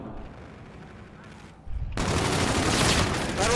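Gunfire in a video game, a quiet stretch giving way to a sudden burst of loud, dense, sustained shooting, with a voice faintly audible underneath.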